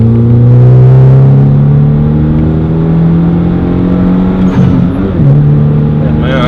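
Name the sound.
2013 Hyundai Genesis Coupe 2.0T turbo accelerating at full throttle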